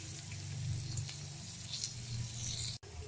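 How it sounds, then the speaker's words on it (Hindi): Masala spices frying in oil in a pan for South Indian masala dosa, a steady soft sizzle with a faint low hum, continuous and close, broken by a brief dip near the end. "और इसे कुछ सेकंड के लिए भून लेते हैं"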